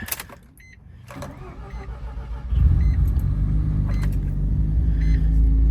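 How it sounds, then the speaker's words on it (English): A Mazda FD RX-7 rotary engine cranks and fires up, settling into a loud, steady idle that fills the rest of the clip after a quieter opening. "Let's see if she'll start up."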